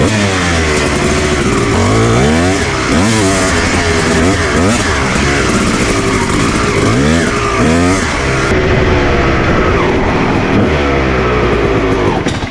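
A cheap two-stroke dirt bike engine revs loudly and continuously close by, its pitch sweeping up and down through repeated throttle blips with no talking.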